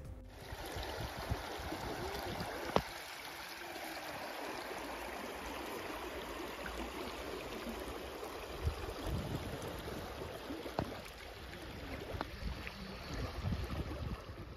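The Jayanti river in Buxa Tiger Reserve flows steadily nearby at night, a soft, continuous rushing of water over the riverbed with occasional faint clicks, quiet and unbroken throughout.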